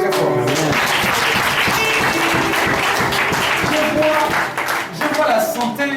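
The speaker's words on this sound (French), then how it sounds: "Est-ce qu'on peut acclamer Dieu très fort?" A worshipping congregation at a French-speaking church service claps and cheers for God, with continuous dense applause and scattered shouts over background music that swells slightly near the end.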